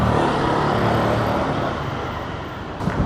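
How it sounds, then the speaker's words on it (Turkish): Heavy road traffic in Gebze heard from a moving motorbike, a dense continuous roar of cars, buses and trucks with steady wind rush, easing slightly toward the end. "Arkadaşlar trafik inanılmaz çok."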